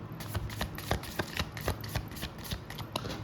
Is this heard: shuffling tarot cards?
yes